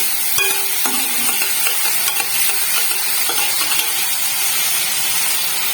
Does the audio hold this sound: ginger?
yes